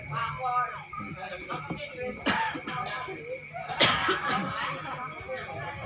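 A few short coughs break through a stretch of talking during a Sundanese-language religious sermon, with brief throat-clearing sounds between the voices.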